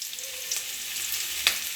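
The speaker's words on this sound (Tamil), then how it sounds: "கடுகு நல்லா பொரிஞ்சிருச்சு." Mustard seeds splutter and crackle in hot oil in a pan, a faint steady sizzle with a few sharper pops, close by and with no talk.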